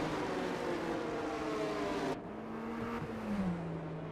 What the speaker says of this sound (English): Ooh, that Aston sounds nice. Or that Merc.